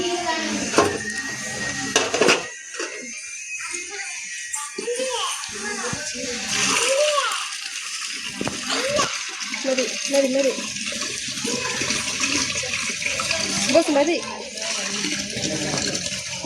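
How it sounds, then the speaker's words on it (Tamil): Water poured from a vessel into a large pot of birthday-party biryani for a 5 kg batch, a splashing, gushing pour running on and off over about sixteen seconds, with people talking throughout. "இன்னும் தண்ணி ஊற்ற போகிறேன்."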